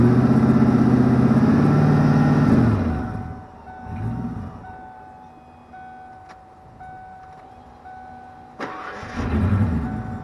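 A 5-liter car engine cranks and fires up with no muffler fitted, loud harsh roar for a few seconds, then settles to a rougher, quieter idle before revving up again near the end.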